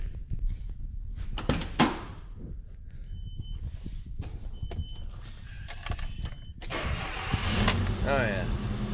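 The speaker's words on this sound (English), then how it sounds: "Okay, I got the new starter installed, so let's see if that takes care of the slow cranking." A 1997 Nissan truck with a newly installed starter cranks and then catches, the engine firing up and settling into a steady idle; a door thud and some close mechanical clatter are mixed in, recorded up close.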